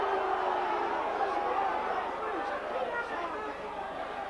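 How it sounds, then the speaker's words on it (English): Rugby league crowd at a 1996 St Helens versus London match, a broad, agitated roar of voices and jeers spread across the stands, with a commentator talking over it throughout. "Crowd are angry about..."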